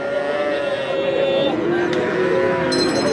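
A heifer calf lets out a long, drawn-out moo, loud and close, over a steady murmur of crowd noise at a cattle market.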